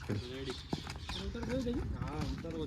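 Hooves of a mare clop on hard ground in an uneven rhythm while several people talk nearby.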